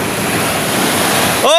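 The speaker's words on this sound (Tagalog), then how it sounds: "May alon sa gilid." Sea waves rolling against the shore, a loud continuous wash of surf and wind buffeting with no clear talking.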